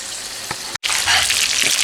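Steady hissing sizzle of fish frying in hot oil for escovitch fish, loud and close, with a brief cut partway through and some soft clatter.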